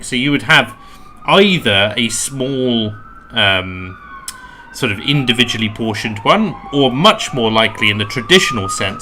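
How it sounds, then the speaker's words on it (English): Emergency vehicle sirens wail outside, rising and falling steadily in the background beneath continuous close talk from a person indoors. "excuse the sirens outside"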